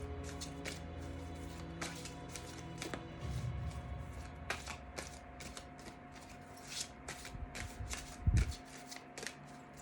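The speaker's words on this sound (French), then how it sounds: "Nous allons tirer une carte pour la féminine." Oracle cards are shuffled by hand in a steady run of soft riffling flicks and taps, fairly quiet and close, with a low background hum throughout.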